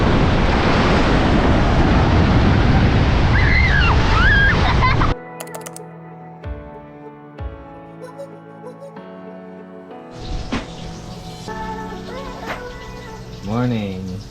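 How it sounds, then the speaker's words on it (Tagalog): Strong ocean surf roars and crashes on the white sand of Patar Beach in Bolinao, Pangasinan, loud and dense with wind for about five seconds before giving way to music and voices. "Lakas ng alon!"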